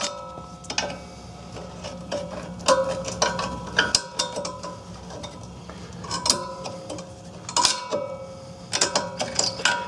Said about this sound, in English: I'm going to just take a screwdriver, see if we can wedge this thing out of there